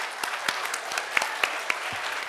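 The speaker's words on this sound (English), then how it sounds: "Can we please give them a round of applause?" Audience applause for students at an MIT India Initiative closing ceremony, a short burst of steady clapping from a crowd in a hall, with a few sharper individual claps standing out.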